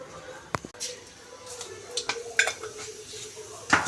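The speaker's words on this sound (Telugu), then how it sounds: "జీలకర్ర ఆవాలైతే వేసారు మిరపకాయలు వేస్తున్నారు ఉల్లిగడ్డ వేస్తున్నారు" Cumin and mustard seeds, chillies and onions drop into hot oil in a pan for a tempering, with sharp clinks of a utensil against the vessel, scattered crackles and a soft sizzle, close and moderately loud.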